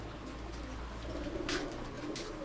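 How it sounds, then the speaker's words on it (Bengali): Soft archangel pigeon cooing, low and murmuring, repeated over a steady background hum, with a couple of brief brighter rustles partway through. "এটা হচ্ছে আপনার মাদি কবুতর ব্লু গোল্ড আর্চেঞ্জেল"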